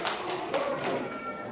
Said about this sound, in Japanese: では拍手